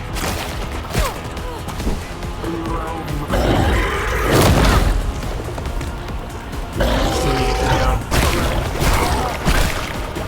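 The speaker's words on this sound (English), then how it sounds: "It's throwing a bomb." A bomb thrown and exploding in the video game Grounded, amid a loud, dense barrage of booms, crashes and whooshes that swell in the middle and again later, with a voice now and then under the din.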